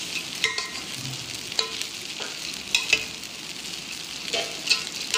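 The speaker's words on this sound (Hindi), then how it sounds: "अब इसको अच्छी तरह मिक्स करेंगे।" Singaporean rice with green onion is stir-fried and mixed in a hot pan, giving a soft continuous sizzle broken by several sharp scrapes and clinks of the utensil.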